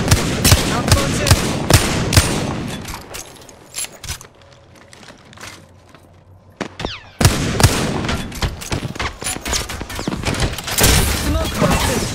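Loud rapid gunfire in the video game Apex Legends, dense bursts of shots for the first few seconds, a quieter lull, then heavy sustained firing resuming to the end, with game voices underneath.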